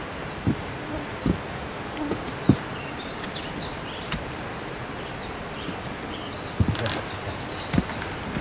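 Insects buzz in the video game Gold Prospector, a constant background hum broken by scattered small ticks and patters. It plays alone at a moderate level throughout.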